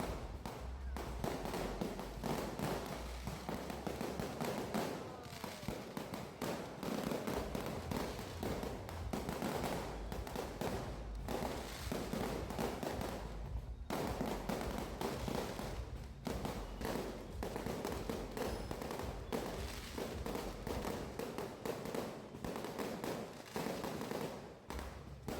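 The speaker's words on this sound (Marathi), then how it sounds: "इथे अशा प्रकारे खूप सारे फटाके" Many firecrackers set off outdoors, a dense, continuous barrage of crackling pops and bangs for the whole stretch, with faint voices mixed in underneath.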